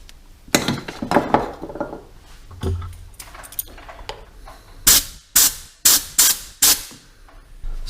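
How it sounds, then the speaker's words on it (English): Cleaner sprayed into an oily, stripped bolt thread on a Ducati 900SS bevel-drive motorcycle: after some earlier metallic clinks and handling noises, five sharp, hissing aerosol bursts follow in quick succession, close and loud. "Let's put a bit of cleaner in there."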